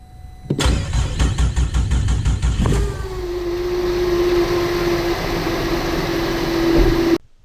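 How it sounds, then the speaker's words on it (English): 2006 Cadillac STS 3.6L V6 with a failing alternator cranking with rapid rhythmic starter pulses, then catching and settling into a steady idle with a clear whine running over the engine. "this is what the alternator sounded like before I replaced it"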